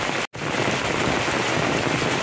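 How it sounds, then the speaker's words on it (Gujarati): Heavy monsoon downpour, a dense, loud, continuous rush of rain with a brief dropout near the start and no voices. "એવું ફૂલ વરસાદ વરસે છે અત્યારે"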